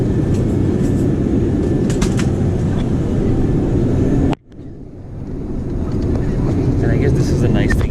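Cabin noise aboard an airliner in flight: a loud, steady broadband roar that briefly drops out near the middle, then swells back to the same constant rumble.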